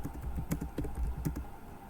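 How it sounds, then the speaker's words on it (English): Rapid typing on a computer keyboard, a steady run of close, soft key clicks with no talk. "Let me quickly type this down."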